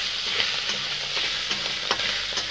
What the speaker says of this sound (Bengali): নাড়াচাড়া করে এখন আমি ভালোভাবে ভাজিয়ে নেব।